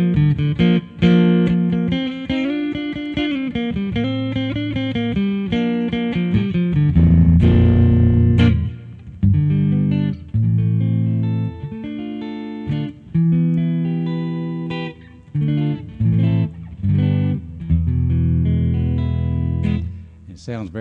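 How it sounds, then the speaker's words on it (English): An Ovation Viper 3 electric guitar is played through a clean tone: a close, loud run of ringing single notes and sustained chords, with short gaps between phrases toward the end. "it's a wonderful playing, wonderful sounding guitar"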